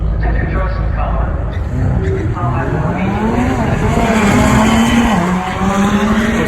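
Dodge Demon SRT drag cars launching at a drag strip, a loud continuous engine roar with rising pitch and a tire squeal, heard alongside background talk.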